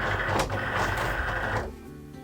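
Craft cutting machine loading a scoring tool into clamp A, a steady whirring motor hum with mechanical shifting that cuts off toward the end.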